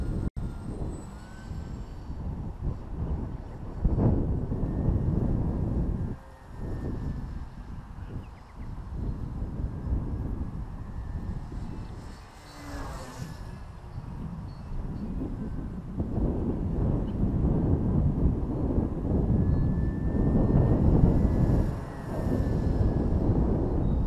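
A Unique Models PC-9 RC model airplane on a 3-cell battery flies in gusty crosswind, its electric propeller drone faint and distant, rising and falling as it circles, largely buried under steady microphone wind rumble.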